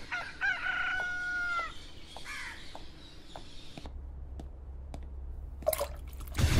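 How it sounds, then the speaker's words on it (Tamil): A rooster crows plainly and loud nearby, its long warbling call followed by a second shorter crow, then clucks and a low rumble close the scene. "சேவல் கூவிடுச்சுல"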